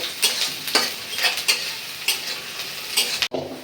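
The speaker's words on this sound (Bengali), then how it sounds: "পেঁয়াজ রসুন বাদামি করে ভাজা নেই" Chopped onion and garlic fry in oil until brown, a lively close sizzle broken by regular stirring strokes and spatula scrapes against the pan, with no one speaking.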